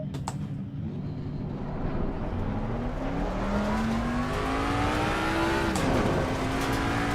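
Ford Mustang engine in the Assetto Corsa racing game, revving up through a long rising pitch sweep, dipping briefly at a shift and climbing again, steady and fairly close without speech.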